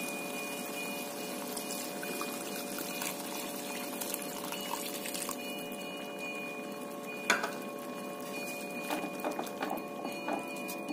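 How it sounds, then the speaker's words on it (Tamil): Tamarind water being poured into a cooking pan of sautéed ingredients for Tamil poondu kozhambu, a soft continuous pouring and trickling with light patter, plus a brief sharp clink partway through. "இப்போ நம்ம புளி தண்ணியை ஊற்றிடலாம்."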